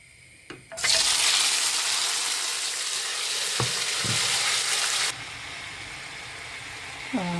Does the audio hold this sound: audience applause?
no